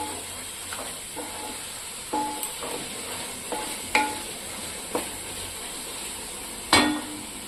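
Telugu-style fish curry simmers on a medium flame as a spoon stirs the pot, with a steady soft bubbling hiss and a few light scraping knocks against the pan.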